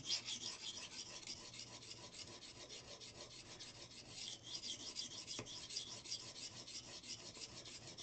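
A knife being sharpened on a sharpening stone, steady rhythmic scraping strokes, quiet and continuous at close range with no voices.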